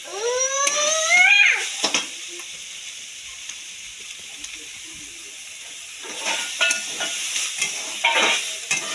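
Onion chutney with tomato and coriander roasts in a pan, a steady close sizzle and hiss broken by bursts of stirring and scraping, with a brief whistling tone at the start.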